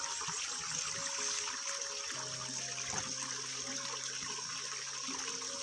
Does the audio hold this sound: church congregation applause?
no